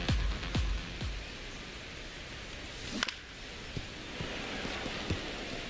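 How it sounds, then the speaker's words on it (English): Steady rain falls over a ballpark during an MLB The Show 26 game, a constant hiss-like wash broken by a few sharp knocks and taps near the start and middle. "This rain is not letting up."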